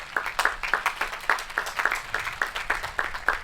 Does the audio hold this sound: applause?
yes